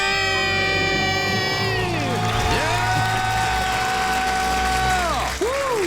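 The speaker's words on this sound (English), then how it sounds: "Let's hear a debt-free scream." A small group screams and cheers loudly in celebration after becoming debt-free, the yells sustained and overlapping, rising and falling in pitch, close up and filling the whole stretch.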